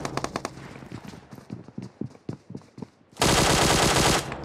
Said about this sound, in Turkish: Baba bana pompalı sıkıyor.